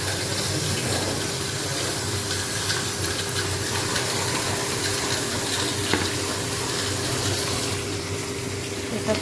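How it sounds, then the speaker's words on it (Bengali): Radish and potatoes are rinsed under a running tap in a home kitchen, producing a steady stream of splashing water with faint clatter, close and continuous, without talk. "আর এদিকে মূলোটা আর আলুটা একটু ধুয়ে নিই পাশে।"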